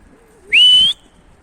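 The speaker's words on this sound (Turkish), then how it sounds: "Aşağıdan bir ıslık sesi geliyor ama bize mi değil mi bilmiyorum" A single short whistle, clear and fairly loud, rises briefly and holds for under half a second against quiet surroundings.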